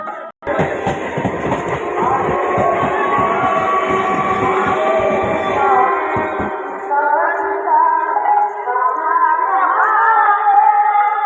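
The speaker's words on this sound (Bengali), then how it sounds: "ট্রেন ঢুকেছে।" A train rolls in with rhythmic rattling and clacking that fades away, leaving a long, loud screech of brakes as it slows to a stop.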